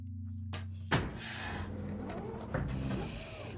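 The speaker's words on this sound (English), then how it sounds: "use your braking thrusters to come to a full stop" Braking thrusters firing in the VR space game Lone Echo, a sharp hissing burst followed by a sustained mechanical whoosh and a second softer puff, heard close with no talking.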